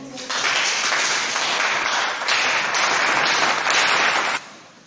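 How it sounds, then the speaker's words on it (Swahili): Classroom students break into sustained applause, a dense wash of many hands clapping at steady volume for about four seconds before stopping abruptly. "Pigieni makofi"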